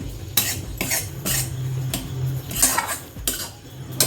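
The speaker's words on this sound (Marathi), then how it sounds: "थोडं खोबरं भाजून घेते ह्याच्यात टाकण्यासाठी" Grated coconut roasts in a dry pan while a spoon stirs and scrapes it repeatedly, making rhythmic metallic clinks and scratchy rustles up close, with no talking.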